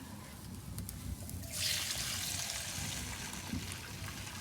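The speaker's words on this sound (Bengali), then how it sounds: "এখন এই ডালগুলো সুন্দর করে ধুয়ে নেব।" Mung and masoor lentils being rinsed in water, with a steady soft trickle and sloshing under a low background hum and a brighter splashing pour in the middle.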